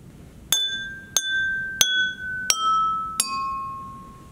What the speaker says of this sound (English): Now use your spoon to tap on the glass. Listen to the sounds made on each glass.